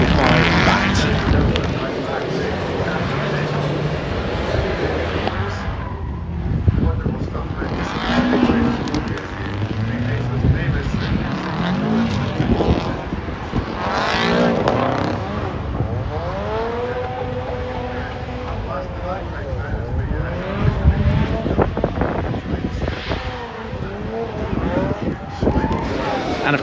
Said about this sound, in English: see the car out on track, giving it some donuts and giving it full beans